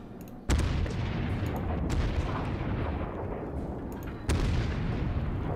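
The Yamato battleship fires its main guns in World of Warships, two heavy booms about four seconds apart. Each one rolls out into a long, loud, decaying rumble with no talk over it.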